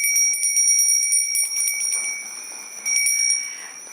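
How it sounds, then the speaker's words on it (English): A small bell is rung repeatedly at a parliamentary summit, bright ringing strikes in a quick run that gradually slows and fades over about four seconds, clear and close with no talk. "we are going to ring the bell to say thank you to our auspicious hosts"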